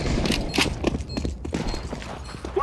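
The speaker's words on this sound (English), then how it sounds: "Stop shooting me!" Gunfire in the tactical shooter CS:GO: several sharp shots in an irregular burst, loud and close, with footsteps and faint speech underneath.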